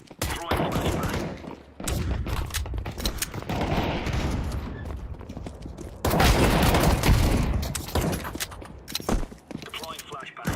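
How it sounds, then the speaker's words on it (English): Grenades and flashbangs going off in a shooter video game, with bursts of loud blasts and rattling gunfire in rapid clusters, heaviest near the end, while a voice talks over the action. "Grenade. Throwing flashbang."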